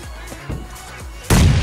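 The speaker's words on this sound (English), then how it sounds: "Mr. Nello going for another nade." A grenade explodes in a PUBG esports match, one sudden loud blast after a short stretch of quieter in-game sounds and faint thumps.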